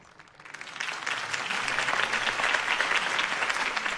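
Crowd applause at a political campaign rally for Harvey Dent in the game Batman The Telltale Series, swelling in quickly from quiet into a dense, sustained roar of many clapping hands.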